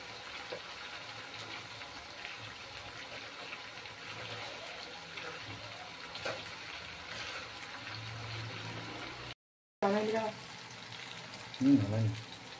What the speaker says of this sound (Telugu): ఇదిగోండి ఫ్రెండ్స్, మనం ఇలాగైతే డీప్ ఫ్రై చేసుకోవాలి చికెన్ని